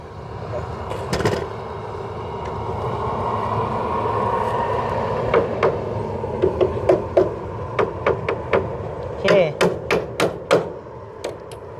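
A run of sharp hammer strikes driving nails into wood, irregular at first then steadier, close by over a low rumbling background; scattered taps before a long series of blows.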